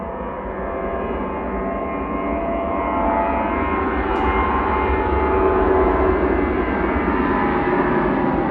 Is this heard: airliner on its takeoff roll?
yes